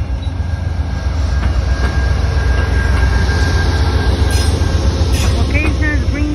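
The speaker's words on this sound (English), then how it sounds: "This Amtrak 55 Vermonter operates from St. Albans, Vermont to Washington, D.C." Southbound Amtrak 55 Vermonter passenger train passing at Greenfield, Massachusetts: a loud, steady rumble of rolling cars with rail clatter throughout, brief wheel squeals near the end, heard close by.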